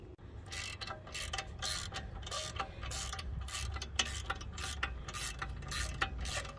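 A socket wrench ratchets steadily while bolts are tightened during a brake rotor and pad change on a car, giving rapid repeated clicking bursts with a low mechanical rumble underneath and no talking.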